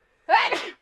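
A single sharp human sneeze, close and fairly loud, a quick burst lasting under half a second with silence before and after.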